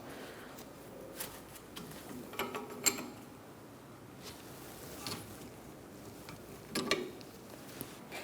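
A brake hose on a 2012-2019 Fiat 500 being loosened with a 14mm line wrench: quiet, close metallic creaks and ratchet-like clicks in two short bursts, separated by near silence.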